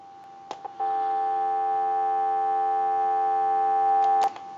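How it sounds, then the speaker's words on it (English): A steady dial tone hums from a Western Electric 317 wooden wall telephone after a couple of brief clicks, continuous and clear for about three and a half seconds, then stops with another click. "Give you some dial tone."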